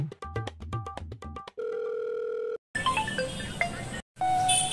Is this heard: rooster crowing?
no